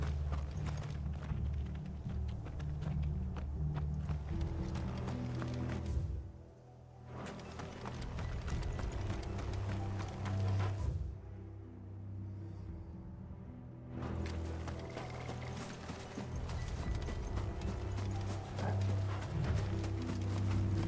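Steady clip-clop of horse hooves over a dense, rumbling soundscape in Final Fantasy XVI, with a few brief quieter gaps.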